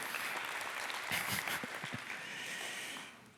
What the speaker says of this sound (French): vous pouvez vous applaudir pour ça, vraiment